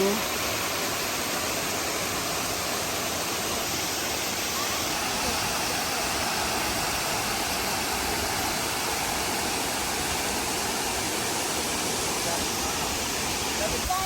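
Aliw Falls, a waterfall reached on a nature hike, roars as a dense, constant close-up rush of falling water that fills the whole stretch at an even level.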